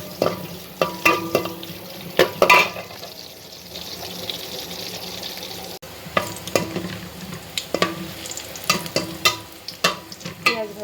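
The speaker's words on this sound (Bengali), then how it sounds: "এই যে তেলটা বাগার দিচ্ছে পেঁয়াজ ভাজতেছে" Chopped onion frying in hot oil in a home kitchen pan, a steady sizzle broken by repeated sharp scraping and stirring clicks of a spoon, close and fairly loud with no talking.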